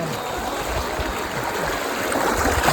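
Fast-flowing water rushes over large stones near a Mahadev temple during Shravan, a steady, dense roar heard close and alone, swelling slightly toward the end.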